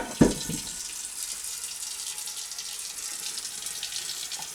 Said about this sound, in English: we're going to put us some cold water in our pot